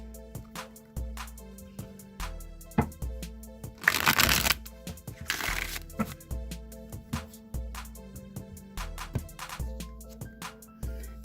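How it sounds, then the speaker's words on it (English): A Rider-Waite tarot deck being shuffled repeatedly, with crisp riffling bursts and card slaps, close up and fairly loud over a steady background of soft music, no voices. "I'm going to shuffle the Rider-Waite deck a few times"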